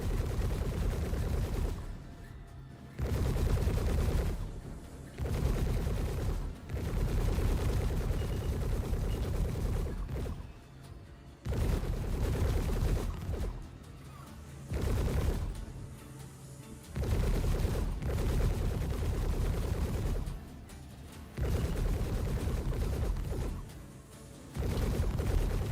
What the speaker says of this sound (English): The turret's shooting at it.